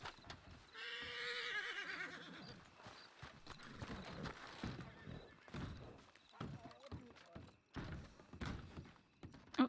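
Horse in a Western role-play video game whinnies early, a rising and falling neigh, followed by scattered hoof clip-clops and thuds as people talk over it.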